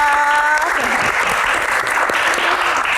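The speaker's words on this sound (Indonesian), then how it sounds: "tepuk tangan Mas Iqbal" Steady applause from an audience fills the whole stretch, dense and sustained, with a voice briefly heard at the start.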